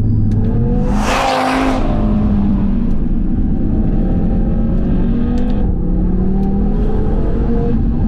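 Audi TT RS with a large tuning build in progress, engine revving loudly and continuously with a rising whoosh of the turbo blowing near the start, a steady heavy drone throughout.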